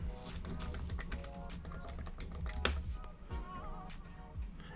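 A name is typed on a computer keyboard as a quick, uneven run of close key clicks, with a short pause before the final few presses.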